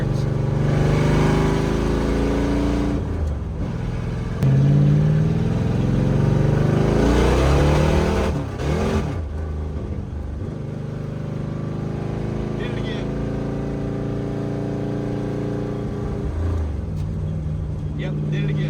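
A Dodge Dart with a V8 and four-speed manual drag racing: a loud engine roar climbing in pitch through gear changes, then easing to a lower, steadier drone as it slows.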